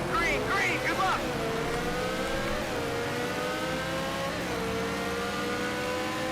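A racing car engine in Need for Speed Shift 2: Unleashed revs in rising sweeps, dropping in pitch at each upshift, loud and continuous, with a voice briefly over the start.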